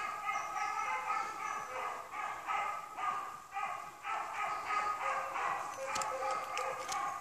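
Two beagles bay in a rabbit chase outdoors, a steady run of rhythmic, moderately distant howling barks repeating over several seconds.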